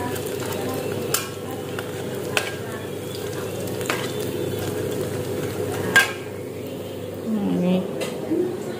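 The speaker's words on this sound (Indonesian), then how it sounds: "belum selesai goreng bakwanya" Bakwan vegetable fritters fry in hot oil in a pan, a steady close sizzle throughout with occasional utensil clicks and scrapes, while a voice talks at times.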